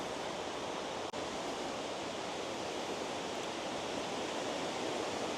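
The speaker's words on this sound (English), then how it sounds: "You can probably hear the waterfall in the background." Mingo Falls sends water rushing over wet rocks after rain in a steady, quiet, broadband hiss that stays even and unbroken for several seconds. A single tiny click stands out near the start, and no one talks.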